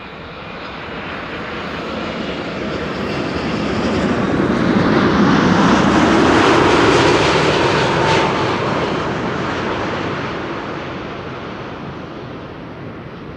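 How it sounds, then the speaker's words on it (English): KLM flight 604, an airliner arriving from Los Angeles, passes overhead on approach to Amsterdam Schiphol, its jet roar swelling steadily to a loud peak mid-clip and then fading away, with no talk. "This is KLM flight 604,"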